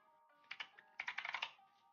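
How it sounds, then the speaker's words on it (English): Loud computer keyboard typing, two quick key taps followed by a rapid close burst of clattering keystrokes against a faint background hum, with no talk. "my keyboard's so loud"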